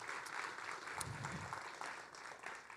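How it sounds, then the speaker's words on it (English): Applause from an audience at a university entrepreneurship demo day, a steady wash of clapping at moderate, somewhat distant level running the whole time without a break. "So let's give them a round of applause as well."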